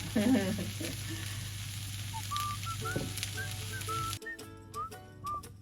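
Honey mushrooms being stir-fried, a steady close sizzle with a few scraping stirs near the start, and faint whistling tones drifting in over the frying.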